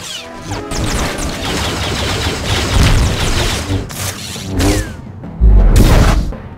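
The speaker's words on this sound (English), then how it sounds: "bounty hunters rocketing, with jetpacks, firing missiles down on their opponents." Star Wars: The Old Republic combat with bounty hunters using jetpacks and firing missiles: dense, loud layered explosions, whooshing launches and rapid gunfire bursts, with a heavy booming impact near the end.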